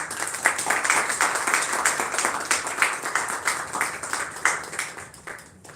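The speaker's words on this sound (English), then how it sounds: "Please do round of applause." Audience applause at an award ceremony for the 10th Indian Cine Film Festival: a dense, steady crowd clapping that carries on for several seconds and thins slightly toward the end.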